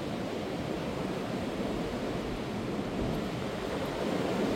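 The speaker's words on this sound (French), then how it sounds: "Ça fait un bruit dans les arbres" A steady, dense roar of Storm Floriane's strong wind in trees fills the whole stretch, unbroken and loud, with no voices.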